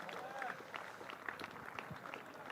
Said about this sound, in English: Oh, listen to the cheers.